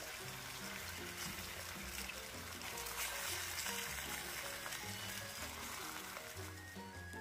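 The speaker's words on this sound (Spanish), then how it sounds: "lo que estamos buscando es que la carne se selle nada más" Beef steaks sear in a hot pan with a steady, crackling sizzle, faint and continuous beneath background music.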